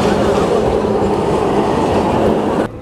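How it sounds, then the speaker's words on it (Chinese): A city-centre tram in Alexandria, Egypt, rumbles past at close range, a steady loud roar of wheels and car body with faint clatter, continuing for nearly three seconds before cutting off abruptly. "这是亚历山大城市中心的电车，"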